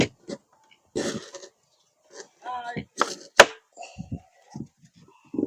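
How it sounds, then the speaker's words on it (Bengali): Knife chopping raw green mango into small pieces for a juice, giving scattered sharp close taps on a board in uneven bursts, with brief voices and a cough between the cuts. "আমরা ছোট ছোট করে পিস করে দিচ্ছি"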